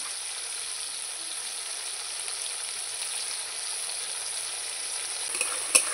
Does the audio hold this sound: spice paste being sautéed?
yes